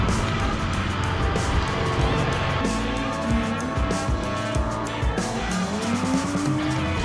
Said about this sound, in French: On va finir le tour avec un pneu qui a décidé de délaminer.